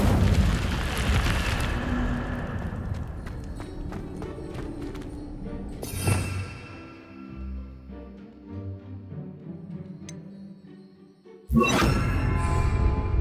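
Incendio fire spell in Hogwarts Legacy, a sudden whooshing fiery burst near the start, followed by more bursts of flame and ambient game sounds, with two further loud blasts later.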